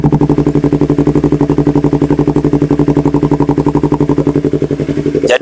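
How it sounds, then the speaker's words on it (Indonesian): Yamaha R25 Movistar Edition motorcycle from 2017 idling, its exhaust recorded close at the silencer tip: a steady, loud, even low burble with a rapid regular pulse, running throughout with no talk. "gue bakal deketin mikrofonnya ke deket silencer knalpot ujungnya"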